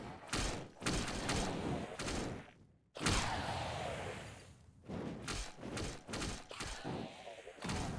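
A consuming fire shockwave attack in the video game S.A.O, a dense burst of heavy booming impacts and crackling blasts, loud and close, with a brief silent gap before another surge.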